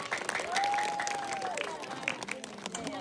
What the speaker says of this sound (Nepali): सबैजनाले ताली बजाउनेछौँ